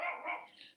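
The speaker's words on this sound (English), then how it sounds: "And that's my dog, just ignore him." A pet dog barks from outside a closed room, wanting to be let in; two or three quick muffled barks and whines, fairly close and alone without talk.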